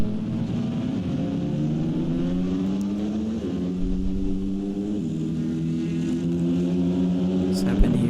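GT3 race cars, among them a Corvette and a Ferrari 296 GT3, race at Monza, their engines rising and falling in pitch as they run side by side past the trackside audio, loud and continuous.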